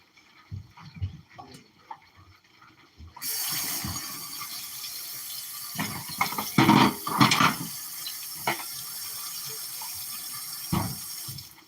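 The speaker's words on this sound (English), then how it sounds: "Let me wash this little bit of dishes." Kitchen tap water runs steadily while dishes are washed, a constant splashing flow with clinks and knocks of dishes, starting after a few seconds of quieter handling sounds.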